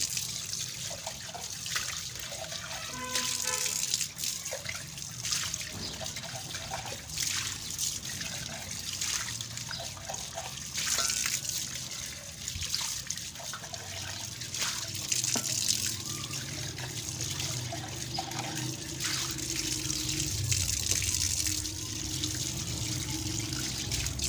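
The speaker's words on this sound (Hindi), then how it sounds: "तो इसको मैं धो कर रखने लगी हूँ, ताकि जो धूल मिट्टी है ऊपर से सारी वो साफ़ हो जाए।" Running tap water pours and splashes steadily over a clay dinner set being washed, a continuous close trickle and gush with occasional clinks and shifts as the dishes are handled.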